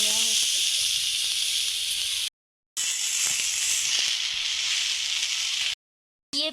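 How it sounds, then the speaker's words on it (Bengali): Potatoes fry in a pan on a straw-fired clay stove, giving a loud, steady close hiss and sizzle that cuts out twice for short moments. "তো দেখো এবার আলুটা ভেজে নেওয়া হচ্ছে।"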